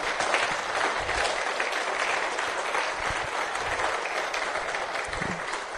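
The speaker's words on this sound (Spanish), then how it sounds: "Yo quiero que les demos un aplauso fuerte a estos valientes que nos acaban de compartir." Sustained applause from a church congregation at a marriage workshop, steady and fairly loud throughout with dense clapping and no pauses.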